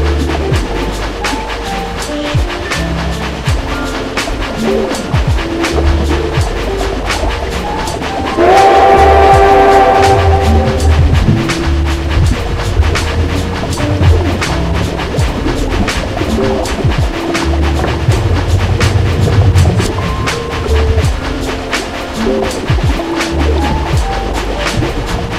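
A train rumbles along steadily with rhythmic clacking on the rails, and a horn sounds once midway, loud and continuous throughout.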